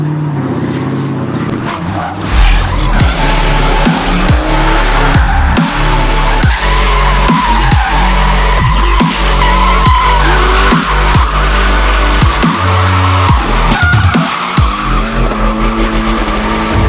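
Cars drift at a Pumpkin Smash car event, engines roaring loudly as tires screech in long repeated squeals, close and sustained throughout with brief revving gaps and a dog barking faintly at times.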